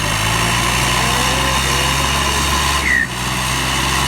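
A tractor engine drones steadily at a rural tractor tug-of-war contest, a loud, close, continuous hum with a brief dip near the end and no speech over it.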